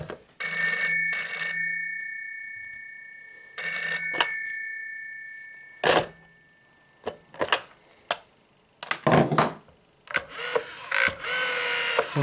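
A Telecom Australia 802 telephone, converted to a two-wire line, rings loudly with two long double bursts of its metallic bell, followed by scattered clicks and clunks from handling the handset and dial.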